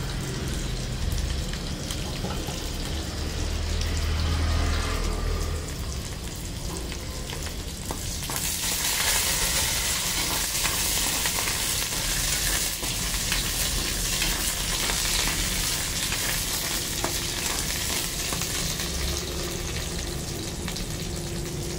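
Hot oil sizzles loudly and steadily in a pan as potato bhaji fries, a dense continuous hiss that brightens partway through after onion goes in, with no voices heard.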